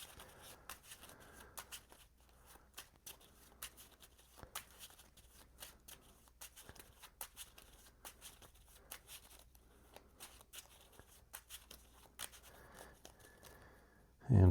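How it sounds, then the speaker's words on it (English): Cards being shuffled during a Marvel Champions card game: a steady run of quiet, crisp riffling clicks and soft flicks over about fourteen seconds, close by, ending with a louder knock. "We get an encounter card and do some shuffling."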